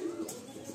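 A red Madrasi pigeon at a Kolkata loft gives a single short, low coo, faint and brief.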